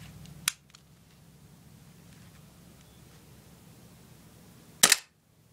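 Kimber Ultra Carry II airsoft pistol dry-fired on gas with an empty magazine: two sharp, close pops about four seconds apart, the second louder with a short hiss, over quiet room hum.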